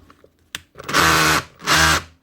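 Makita DHR242 SDS drill set to drill-only mode, whirring loudly in two short bursts of roughly half a second each, preceded by a small click.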